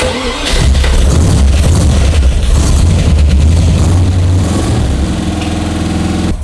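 A Caterham car engine with no choke starts after a couple of squirts of fuel and settles into a loud, steady, close rumble that holds for several seconds.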